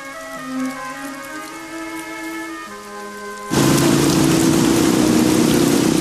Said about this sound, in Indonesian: Hujan cuma hujan air aja kok.